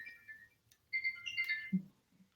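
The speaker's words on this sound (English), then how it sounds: "I mute my phone, but sometimes my watch goes off" A faint smartwatch alert chirps in a quiet room during a podcast conversation, a couple of short electronic tones followed by a soft buzz, low in level.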